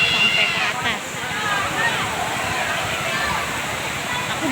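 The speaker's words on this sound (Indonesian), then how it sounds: "Ini aku dekat banget dengan air terjunnya" Loud, continuous roar and splashing of a waterfall heard from very close, with nearby voices faintly mixed under the rushing water.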